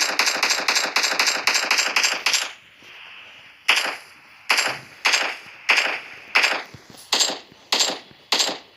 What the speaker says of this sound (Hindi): मैं बहुत फायरिंग करता हूँ।